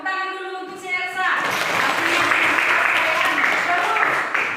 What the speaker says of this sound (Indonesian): tepuk tangan dulu untuk si Elsa.